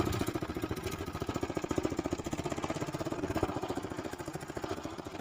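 Vehicle engine running steadily on a rough, pothole-filled road, a continuous mid-pitched rumble with rapid pulsing throughout, fairly close and without talk.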